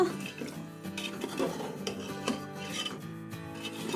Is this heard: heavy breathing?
no